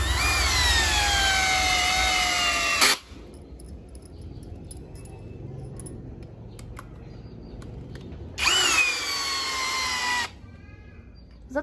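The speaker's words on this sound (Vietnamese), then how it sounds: "Em sẽ bắn vít gỗ dài 10 phân anh em nhớ," A cordless three-function drill driving 10 cm wood screws into longan wood whines loudly for about three seconds, goes quiet amid faint clicks and handling noise, then whirs again in a second burst of roughly two seconds.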